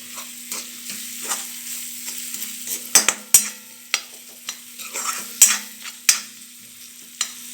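A spoon stirs and scrapes through peanut bhaji sautéing in a pan, giving a soft sizzle under several sharp utensil knocks against the pan at irregular intervals.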